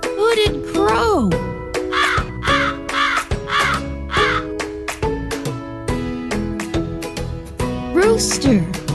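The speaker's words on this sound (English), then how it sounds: "Hooded crow." A hooded crow caws in a run of loud, harsh calls spaced across the clip, heard up close over a steady musical backing with tinkling accents.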